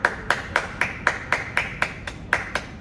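A single person claps hands about ten times at a steady, even rhythm, each clap sharp and close with a short decay, and nothing else heard.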